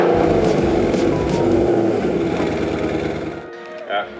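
Jeep SRT with a 6.4L HEMI V8, Varex muffler and Cook's headers, rumbling loud and close at startup, a dense steady engine roar that eases off near the end with a brief blip.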